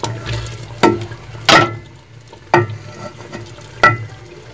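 Tomatoes tipped into a pot of chicken and mutton that has been browning for fifteen minutes, giving four sharp stirring clatters over a steady low sizzle, close and moderately loud, with no talking.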